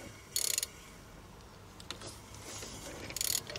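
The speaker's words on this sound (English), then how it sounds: "we're going to turn this engine over before I even tighten up the crank bolt" A Ford Focus Mk1 1.4/1.6 engine is turned over by hand at the crank bolt during a timing belt change. Two short, quiet bursts of rapid ratcheting clicks sit about three seconds apart, with low mechanical noise between them.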